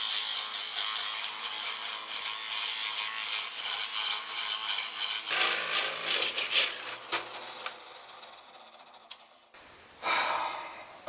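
A drill press routes the inner carve of a near-inch-thick Wenge guitar top, a steady rasping, grinding whir that runs loud for several seconds, then thins into scattered scrapes and a final burst.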